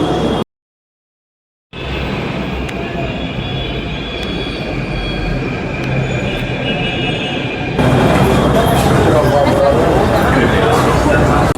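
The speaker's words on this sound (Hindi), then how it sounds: "ये है मेट्रो जयपुर। आई थिंक इसमें सिर्फ 4 कोचेज़ हैं।" A Jaipur Metro train with four coaches rumbles past with steady rail noise that swells louder toward the end after a brief dropout, wheels faintly squealing.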